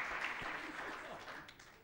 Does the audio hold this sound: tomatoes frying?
no